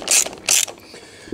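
A ratchet wrench tightens Allen cap bolts on a car wheel spacer, with two quick bursts of close clicking ratcheting followed by quieter creaks and a faint knock.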